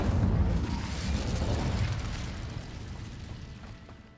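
Fiery spell cast in the Hogwarts Legacy video game: a loud broad whooshing burst of flame that roars at the start and slowly fades over several seconds, with no talk.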